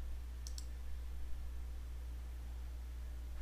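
A quick pair of mouse clicks sounds faintly over a steady electrical hum as a corridor is selected in Civil 3D software, with no one talking.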